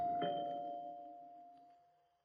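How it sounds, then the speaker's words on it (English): A single electronic doorbell chime rings out and slowly fades away, clear and alone in a quiet room. "I don't think that doorbell took the first time"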